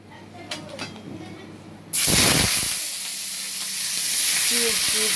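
Chopped onions dropped into hot white oil in a kadai burst into a loud, sudden sizzle that settles into a steady frying hiss, with faint clinks before it.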